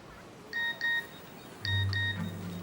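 A phone gives a run of short electronic beeps in two separated pairs, clear and fairly close against quiet background, with a low tone entering near the end.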